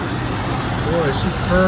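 An old plow truck, restarted after about 20 years with a cleaned carburetor, idles steadily at close range under a man's speech.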